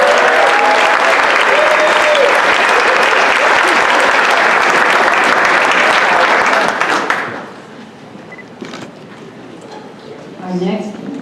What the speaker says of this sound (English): she deserves a round of applause too